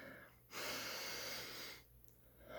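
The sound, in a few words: deep breath into the gut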